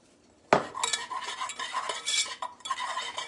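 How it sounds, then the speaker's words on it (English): A whisk scrapes and clinks rapidly against a bowl, mixing chocolate pie filling ingredients with a pinch of salt, in busy, close rhythmic strokes with brief pauses. "Just going to whisk all that together to get it all mixed up really good."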